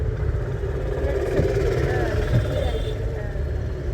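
Car in second gear during a driving lesson, engine running steadily at close range with a continuous low rumble, voices talking over it.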